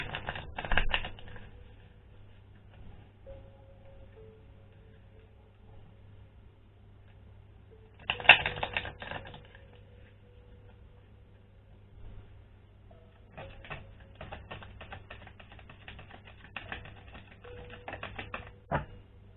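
A deck of Starseed Oracle cards is shuffled in three crisp, papery bursts of riffling and flicking, separated by quiet pauses, with the last burst the longest, and no one speaks.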